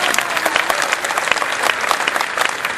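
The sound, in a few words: audience applause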